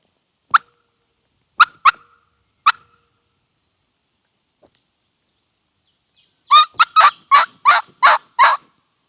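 A wild turkey gobbles in the open outdoors late in the spring season. Three short, separate gobbles come first, then after a pause a louder run of six or seven rapid gobbles, fairly close and with no other sound.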